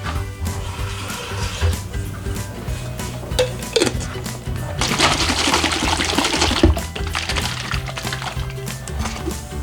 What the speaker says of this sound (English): I like to fill these up with water, just a little bit to try and get some more of the sauce out